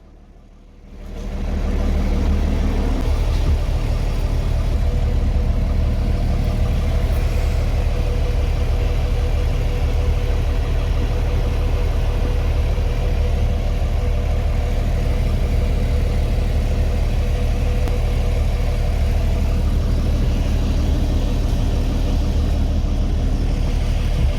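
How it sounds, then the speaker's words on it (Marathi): A Shivshahi bus engine idles at a roadside hotel stop, starting up from near silence and then holding a loud, steady low rumble close by for over twenty seconds, with no one talking. "मला शिवशाही बस मिळाली आणि ही बस थांबलेली एका हॉटेल"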